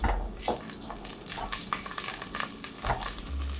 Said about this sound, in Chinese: 锅热了，下入油，再放之前切好的料头，爆香